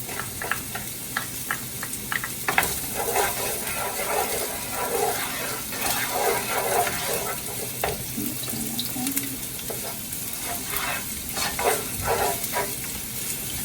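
Garlic and scallops sizzle in a pan for linguine with clams, a steady frying hiss broken by rhythmic clicks and scrapes of a utensil stirring, close by, with no talking.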